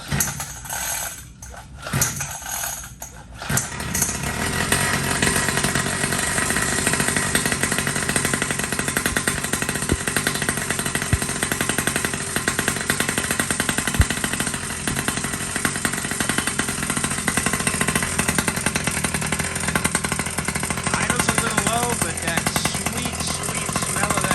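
A small two-stroke RC car engine is pull-started a few times, catches and keeps running with a loud buzzing rattle, revving steadily up close.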